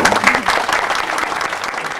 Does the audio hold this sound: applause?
yes